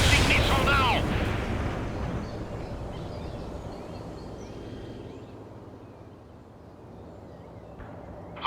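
A missile launches and explodes in the real-time strategy game World in Conflict: a loud, close boom with a brief voice at the onset, then a long rumbling decay that fades into low background noise.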